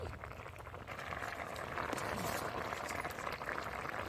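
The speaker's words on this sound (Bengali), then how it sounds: "টক ফুটে উঠেছে এবার সর্ষে বাটা দিয়ে দিচ্ছি" A pot of sour green-mango tok with black mustard paste bubbling steadily on the fire, a continuous close simmering hiss and gurgle with no talk.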